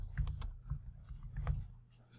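Typing on a computer keyboard while filling in document properties, a run of light, close key clicks in an uneven rhythm with a few sharper taps, fairly quiet and with no talk over it.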